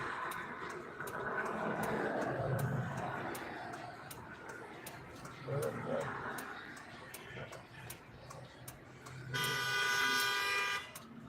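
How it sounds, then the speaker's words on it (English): A car horn honks from outside, a loud sustained blast near the end after quieter background noise with speech and steady ticking clicks throughout. "he trying to honk at me, trying to start something"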